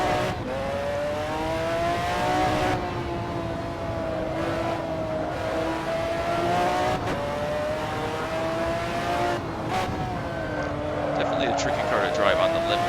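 A McLaren F1 GTR engine in the racing game Assetto Corsa screams up through the gears, with sharp shifts and rising revs, loud and continuous.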